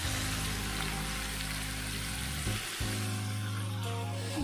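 Mutton chops dropped into roasted masala in a hot pan, a close steady sizzle and crackle that briefly drops out midway as they are stirred, then resumes.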